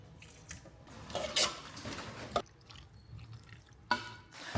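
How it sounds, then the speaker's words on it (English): Pasta water poured from a kitchen pot into pasta tossed with pesto, a few quiet splashing and dribbling bursts with small clinks of cookware, close and soft in a home kitchen. "And then I'm just gonna add a little pasta water."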